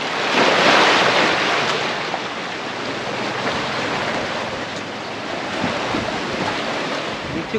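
Surf washing onto a beach at Coral Island, Pattaya, a steady broadband roar of breaking waves with gusty wind noise, loudest near the start and continuing unbroken throughout, with no talking.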